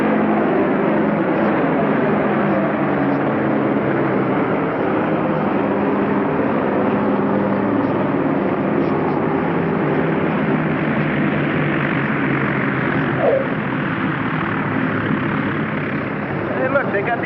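A steady, loud propeller engine drone fills the cabin of a 1950 airliner descending to land with full flaps, continuous and unvarying, with a voice speaking over it.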